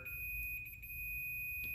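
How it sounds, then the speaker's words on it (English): A Fluke 117 multimeter emits a steady, high continuity-test beep while its probes touch both ends of a fuse, one continuous tone held under a low background hum. "We're getting the beep and it's going down to zero."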